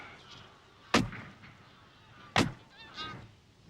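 Two sharp, loud shotgun blasts about a second and a half apart ring out during a wildfowl goose hunt, followed by a few faint honking calls from geese overhead.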